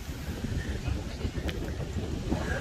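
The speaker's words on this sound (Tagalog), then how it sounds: "Lakas ng hangin." Strong wind at Niagara-on-the-Lake buffets the microphone in a steady low roar, with gusts rising and falling throughout.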